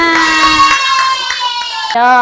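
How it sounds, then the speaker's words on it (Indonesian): A class of children claps their hands in a classroom, the short claps scattered under sustained young voices chanting or speaking loudly over them. "Tepuk tangan semuanya."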